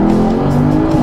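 A Porsche Panamera 4 E-Hybrid engine hums at a steady, loud pitch at speed around 3000 rpm, a sustained close drone with road and wind noise underneath.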